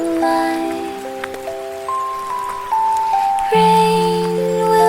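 Gentle rain makes a soft, even hiss running steadily beneath a calm, slow children's lullaby melody that carries the foreground throughout.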